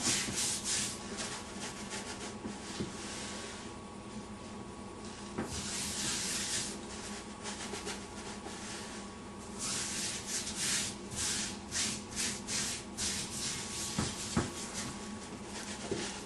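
Salt being rubbed over a raw prime rib for barbecue: steady soft rubbing and hissing scrapes, with brighter gritty swells and occasional light thumps, close and unaccompanied by talk.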